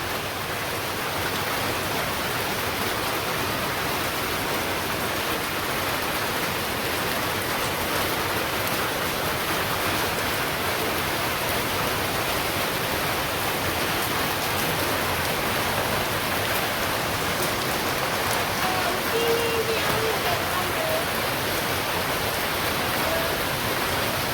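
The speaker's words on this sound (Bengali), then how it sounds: "আস্তে আস্তে বৃষ্টি ফোটা বাড়তেছে" Rain falls steadily on a village, a dense continuous hiss of drops that stays loud and even from start to finish, with no voices.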